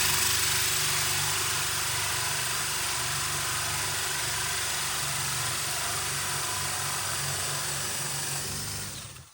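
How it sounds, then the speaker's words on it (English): A loud, continuous drill fitted with a large spade bit whines and grinds at a steady pitch for several seconds, then cuts off and winds down at the end. "to drill a hole large enough, I actually needed to use my largest spade bit"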